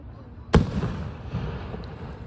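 A single loud firework burst cracks at a fireworks display, followed by a rumbling decay and the murmur of onlookers in the distance.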